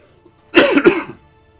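A person clears their throat and coughs twice in quick succession, close and fairly loud, surrounded by near silence.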